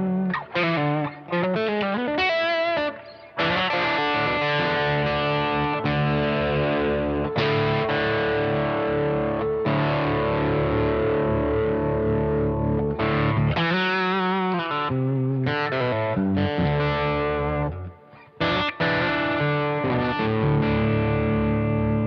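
A heavily distorted electric guitar through an amp plays sustained, gritty chords and riffs, loud and continuous with a few brief gaps, no talking.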